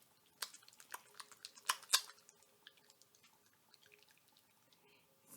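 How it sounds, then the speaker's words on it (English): Warm water drips and splashes in small bursts as it is added to GlamGlow Supercleanse cream-to-foam cleanser, a few sharper drops then a quieter trickle, close and soft with no talking. "you're going to go ahead and add some warm water"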